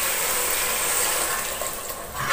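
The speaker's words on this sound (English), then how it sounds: "We add one bowl of water." A bowl of water pours into Bolognese sauce in a hot pan, a steady broad splashing hiss that stays loud and continuous, then eases slightly at the end.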